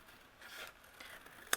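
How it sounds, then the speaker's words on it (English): Scissors trimming patterned card paper for a handmade card: soft rustling snips build up, then one sharp, crisp cut closes the passage, close and quiet. "I'm actually going to use my scissors"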